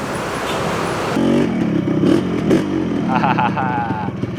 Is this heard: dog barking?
no